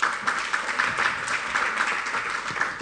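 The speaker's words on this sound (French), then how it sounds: "Je vous demande de l'applaudir, merci." A conference audience applauds with steady, continuous clapping from many hands in a hall, dense and even throughout.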